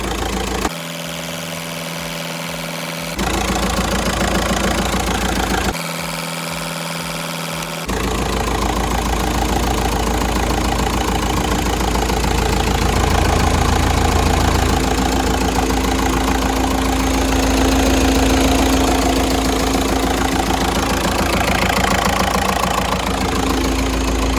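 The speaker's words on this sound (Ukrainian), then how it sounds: "Щось підстукує, може бути двомаса вже початковий стук" A Skoda Octavia TDI diesel with 186,000 km idles steadily with a faint rhythmic knock from a worn dual-mass flywheel. The engine runs close and loud and continuous, with no talk.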